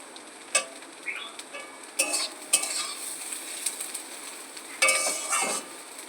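Potatoes frying in a pan on a gas stove, with faint sizzling under irregular scraping and clinking of a utensil against the pan, several sharp metallic knocks and stirring bursts up close.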